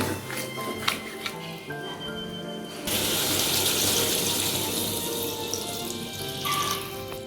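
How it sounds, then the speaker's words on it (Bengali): Water pours steadily into a pot of ridge gourd, potato and drumstick curry, a broad rushing splash that starts abruptly and continues close and fairly loud, fading slightly toward the end. "এবার পরিমাণ মতন জল দিয়ে ঢাকা দিয়ে দিচ্ছি যেহেতু একটু ঝোল হবে তাই জলটা একটু বেশি দিলাম"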